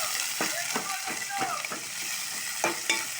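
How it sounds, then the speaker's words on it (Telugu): Green chilies and curry leaves drop into hot oil for a Telugu poori curry, giving a steady bright sizzle with sharp crackles and spatters, plus a few stirring clinks over the frying hiss. "పచ్చిమిర్చి, కరివేపాకు వేసుకోవాలి."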